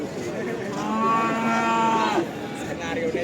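A Simmental cow gives a long, loud, nearby moo lasting over a second at a cattle market, with other faint farmyard noise around it.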